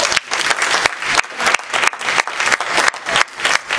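Church audience clapping hands in a dense, continuous burst of applause, loud and close, with some crowd voices mixed in.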